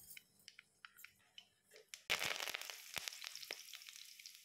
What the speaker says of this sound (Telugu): ఇప్పుడు తాలింపుకు పెట్టాను నేను